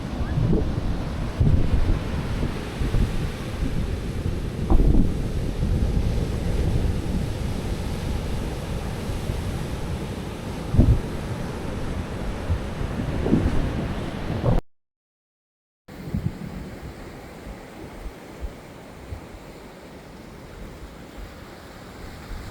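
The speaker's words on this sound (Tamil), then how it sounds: "இப்போ ரொம்பவே கடல் சீட்டமாக இருக்குது அலை எப்படி வருதுன்னு பாருங்கள்" Rough sea waves surge and break at Muttom Beach, a loud continuous roar of surf with strong wind buffeting, several heavier crashes, then a brief dropout and a calmer stretch.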